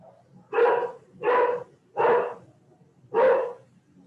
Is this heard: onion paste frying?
no